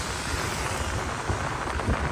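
Steady rain falling at night in San Narciso, Zambales, a dense, even wash of patter that stays close and continuous with no voices.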